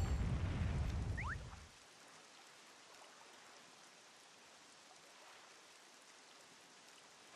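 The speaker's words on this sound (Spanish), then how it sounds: "oh, se puso a llover." Steady rain in The Legend of Zelda: The Wind Waker HD, a soft even hiss of falling drops that continues alone after a louder rumbling sound at the start fades away.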